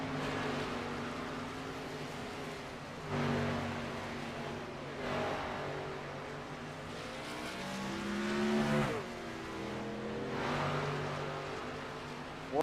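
Stock cars pull off pit road on Goodyear Racing Eagle tires during a short-track stockcar race, engines revving and rising in pitch as they accelerate away, several surges overlapping at close to moderate distance.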